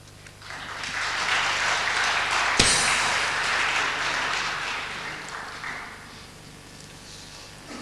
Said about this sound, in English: Let's give a warm round of applause to these ambassadors of music of the Southeast Asia.